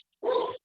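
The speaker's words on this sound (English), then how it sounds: "I apologize for the barking dog" A single short dog bark, close and fairly loud, standing alone against silence during a transit board meeting.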